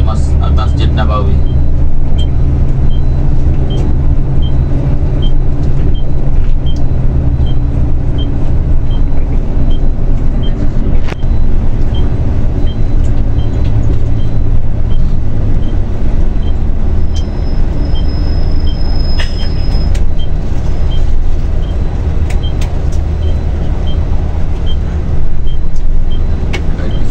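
Interior of a moving tour bus in Medina, a constant loud engine and road rumble with steady low hum, and a guide's voice talking over it throughout.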